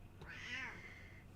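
A pet cat gives a single short meow, fairly close and clear, rising and then trailing off over about a second in a quiet indoor room.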